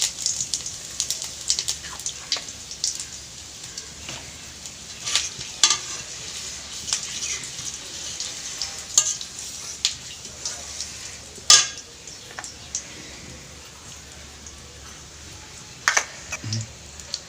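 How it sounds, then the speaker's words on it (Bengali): Cumin seeds and a pinch of asafoetida crackle and sizzle in hot oil as a tempering for vegetarian mutter paneer. A steady frying hiss runs throughout, broken by sharp pops and spatters at irregular moments. "আর জিরা দিয়ে দেবো ফড়ন। এবার দিয়ে দেবো সামান্য পরিমাণে হিং।"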